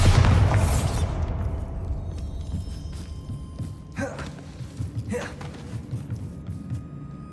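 A Bombarda explosion spell from Hogwarts Legacy goes off as a loud, deep boom at the very start. A long rumbling decay follows and fades into softer game ambience, with a couple of brief bursts later on.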